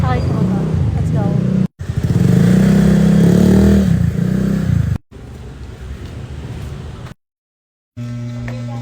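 A motorcycle engine hums and revs close by, cut by brief gaps, with voices talking over it.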